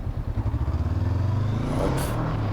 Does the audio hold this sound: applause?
no